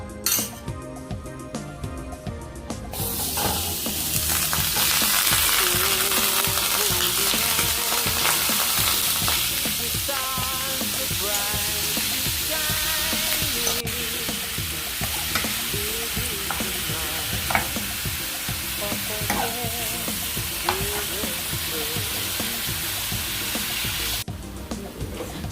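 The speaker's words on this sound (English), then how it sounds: "we're gonna add the minced beef to this to help dry it up a bit." Minced beef fries in a pot over high heat with a loud, steady sizzle, while a utensil stirs and clinks against the pot throughout; no one speaks.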